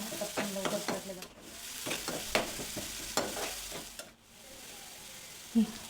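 Chopped onion sautéed with salt in a pan, stirred with repeated scraping strokes over a steady soft sizzle, close and moderately quiet, with no talking.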